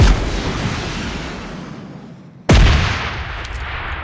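Gunfire in the mobile battle royale game PUBG Mobile: a loud, sustained roar of shots that fades, then a sharp fresh blast of fire near the midpoint that rings on without any talk.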